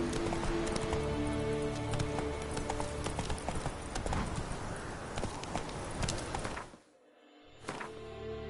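Roach, the horse in The Witcher 3, gallops with rapid, loud clip-clop hoofbeats in a steady driving rhythm that cut out sharply near the end, then briefly resume.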